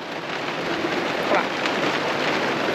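Steady rain drums on a camper at a campsite with its awning rolled out, a dense continuous hiss that holds at a fairly loud, even level throughout.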